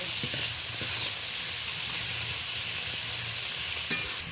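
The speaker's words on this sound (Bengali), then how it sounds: "দু তিন মিনিট ধরে ভালো করে নেড়ে ভালো করে কষিয়ে নেব" Chopped onion and tomato sizzle in a hot pan while being stirred, a dense, continuous, close frying hiss with soft scraping strokes and one sharper clink near the end, no voices.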